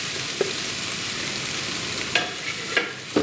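Cooked rice goes into a pan of frying egg, making a loud, dense, close sizzle throughout with a few sharp scrape or drop accents, and no speech.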